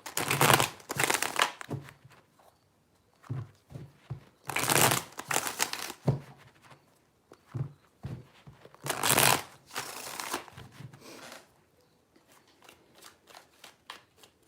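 Tarot cards are shuffled in repeated riffling bursts, some long and some short, separated by quiet pauses, close and crisp with no talk.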